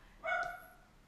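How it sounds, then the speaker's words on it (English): A single dog bark rings out at close range, a short tonal yelp that fades quickly, with no one speaking over it. "Sorry about the dogs barking"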